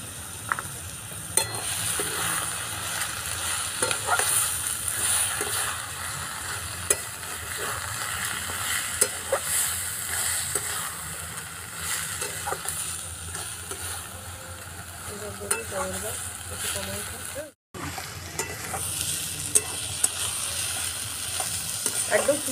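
Ash gourd and coconut stir-fried dry in a pan with a little sugar, a steady close sizzle with scraping stirs and light clinks throughout, broken by a brief dropout near the end.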